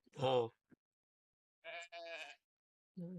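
Sheep bleating close by in a quiet setting, one loud bleat followed by two shorter ones and the start of another, separated by silence.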